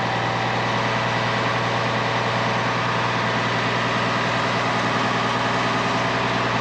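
Old engine idling steadily to warm up, a loud, constant low rumble with an even mechanical hum and no change in pace, close by with no voices.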